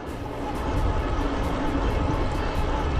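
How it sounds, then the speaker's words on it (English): A Ride1Up Core5 e-bike climbs uphill with its motor working hard, a steady whir blended with rushing wind and road noise, continuous and moderately loud with no talking. "It is uphill, so it's gonna put some work on the motor."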